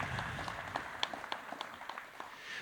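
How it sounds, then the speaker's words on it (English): Light audience applause at an energy storage panel welcoming three guests, a faint scattering of claps with a soft wash of murmur beneath. "Can I get a round of applause for these three?"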